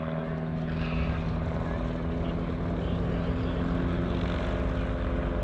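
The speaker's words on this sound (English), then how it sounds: "Hobie, you just turned the airplane upside down." A propeller-driven aerobatic airplane performs a comedy act at the 2024 New Garden Airshow, its engine a steady, loud droning roar throughout, while an announcer talks over it.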